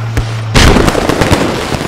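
A C4 charge detonating against a Bradley armored vehicle in the video game Squad, a sudden loud close blast after a faint tone, followed by rumbling, crackling debris.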